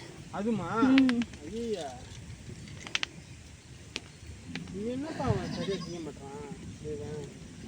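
Goats bleat at grazing time on a farm. Several wavering, nasal calls come in two clusters, close and fairly loud, with a few brief clicks and low background noise between them.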